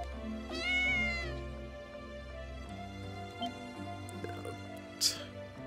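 A cat meowing in the video game Ys: Memories of Celceta, a short rising-falling meow over background game music, followed by fainter chirps and a sharp high accent near the end.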